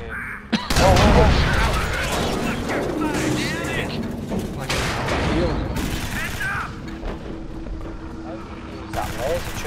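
Salvo weapon firing in the sci-fi shooter Alien Swarm: a rapid, dense stream of loud, crackling shots lasts several seconds, with a shorter burst later, under excited shouting from players.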